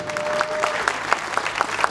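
An audience at a season-opening celebration for the Alibeyköy Spor club applauds club president Muammer Saka, with clapping that falls into a fairly even rhythm, close and lively, with faint murmurs beneath.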